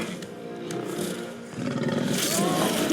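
Bear roars in the God of War video game: a loud, drawn-out growling roar that builds and grows harsher in the second half, with someone talking over it.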